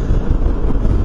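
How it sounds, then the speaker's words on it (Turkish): Wind roars and buffets the microphone in a dense low rumble while a Suzuki Burgman 200 scooter is ridden on the road, loud and constant for the whole moment. "Rüzgar başladı da çok rahatsız etmiyor."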